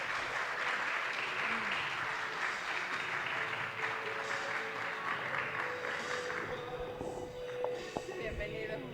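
A crowd at a health training session gives a doctor a strong, dense round of applause, steady and loud throughout, with a voice speaking over the end.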